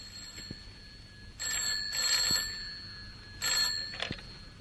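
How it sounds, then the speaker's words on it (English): An old-style telephone bell rings in two bursts separated by a pause, clear and fairly close, with a steady hum in the background. "Almost at once, the telephone rang."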